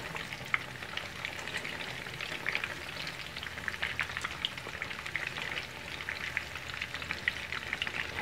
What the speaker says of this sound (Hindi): फ़िश हमारी फ्राई हो रही है।